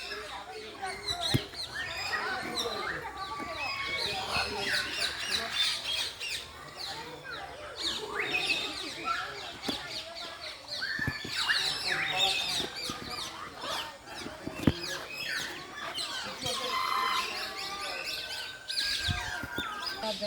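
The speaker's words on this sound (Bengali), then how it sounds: "আপনাদেরকে একটু পাখির ডাক শোনাবো" Budgerigars, mynas and grey parrots in a large divided aviary at a safari park in Dulahazara, Cox's Bazar, keep up a dense, continuous chorus of chirps, squawks and whistles with someone speaking at times.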